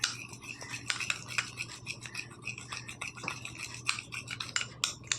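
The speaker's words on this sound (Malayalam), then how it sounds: "ഇത് നല്ലപോലെ ഇങ്ങനെ ഇളക്കി യോജിപ്പിക്കുമ്പോൾ നല്ലൊരു ക്രീം പരുവത്തിൽ നമുക്ക് കിട്ടും" Gram flour face pack paste being stirred into a creamy consistency, a soft, steady scraping and rubbing of a utensil in a bowl with repeated strokes, fairly faint over a low hum and without any talk.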